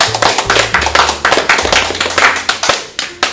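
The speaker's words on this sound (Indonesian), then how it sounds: "tepuk tangan untuk kita semua" Hand claps from a small group at the close of an Indonesian talk show about young inventors, sounding as a run of close, uneven slaps with a low hum running underneath.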